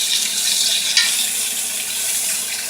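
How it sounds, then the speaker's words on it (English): Onions sizzling in a hot pan in a kitchen, a steady, moderate frying hiss with a soft crackle near the start, heard alone without talk. "I'm getting a little sizzle, but not the kind of heat that I would want"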